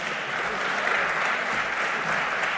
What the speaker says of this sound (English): Let us welcome him with a huge round of applause